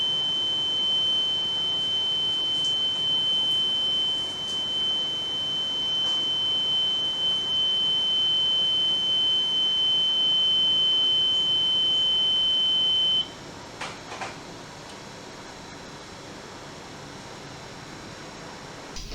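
A reconditioned oil mist detector head sounds a steady, continuous electronic alarm tone during a functional test, holding unbroken for about thirteen seconds before cutting off, leaving faint background hum and a few brief clicks.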